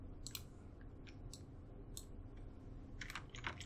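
A computer keyboard gives sparse clicks and then a quick flurry of typing taps, quiet and close over a faint, steady background hiss.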